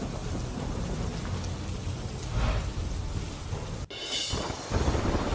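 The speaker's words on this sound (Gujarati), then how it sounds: "મોરબીમાં પણ વરસાદે બોલાવી ધડબડાટી" Heavy monsoon rain pours steadily in Morbi, Gujarat, a dense hiss with low rumbling thunder beneath it. A sharp crack is followed by a brighter burst of downpour.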